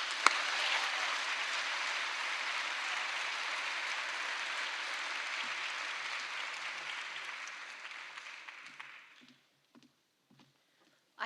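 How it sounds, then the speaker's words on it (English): Audience applause at a film festival opening gala, a steady wash of clapping from a large crowd that holds for about eight seconds, then thins to a few scattered claps and fades out. "I hope Dave didn't steal all of the applause for the night"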